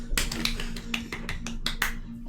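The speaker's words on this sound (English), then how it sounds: "Thank you for the golf claps" A few people give soft, scattered golf claps, light sharp pats arriving in a loose irregular rhythm, close and fairly quiet, with a low steady hum underneath.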